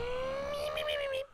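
A person imitates a pig's oinking and grunting, producing a single drawn-out, squealing, tonal call lasting just over a second that is close and fairly loud, then cuts off abruptly.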